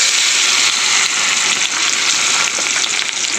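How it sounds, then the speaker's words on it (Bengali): Water spinach (kalmi shak) frying in a hot wok with crushed garlic, a dense continuous loud sizzle and crackle, no voices. "কলমি শাক ভাজা, এখানে কড়াই বসিয়ে দিয়েছি"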